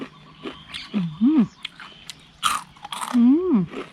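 Crispy fried chicken skin, served with spicy rice-noodle papaya salad, is bitten and chewed up close in a couple of crunchy bursts, mixed with brief vocal sounds.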